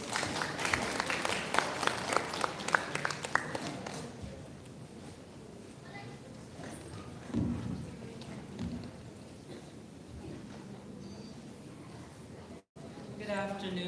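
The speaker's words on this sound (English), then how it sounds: "Let us give him a round of applause." Audience applause at a Grade 12 senior high school graduation ceremony: a burst of crisp clapping for about four seconds fades into a low crowd murmur with brief rustles and stray sounds.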